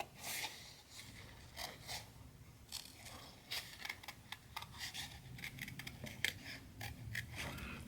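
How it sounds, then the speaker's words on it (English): Scissors snip through flower stems in a quiet room, a close series of small sharp cuts in irregular bursts, some clustered quickly and others spaced apart. "And so I'm going to cut those."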